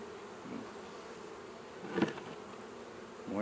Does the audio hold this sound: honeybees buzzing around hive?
yes